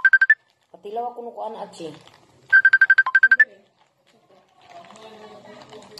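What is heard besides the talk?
phone ringtone, incoming call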